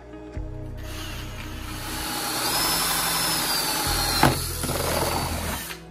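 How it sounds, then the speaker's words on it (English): A power drill with a paddle bit whirs up to speed and grinds loudly through a hydroponic container, easing off briefly before spinning up again and cutting once more. "we got our drill again with a paddle bit because we have one more hole to drill"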